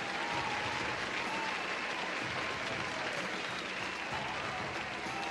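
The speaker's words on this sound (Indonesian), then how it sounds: "kita kasih tepuk tangan yang meriah." A crowd at a One Pride fight event applauds steadily for a newly crowned champion, a dense, continuous wash of clapping filling the arena with a faint murmur of voices underneath.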